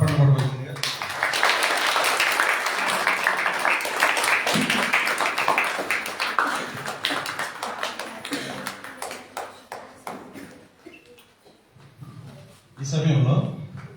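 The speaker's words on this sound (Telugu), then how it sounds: "వచ్చే సమయంలో అందరూ చప్పట్లు పడవలసిందిగా" An audience in a church claps to welcome the chief guest onto the stage, a dense, sustained burst of applause that gradually thins and fades, with voices heard over it near the end.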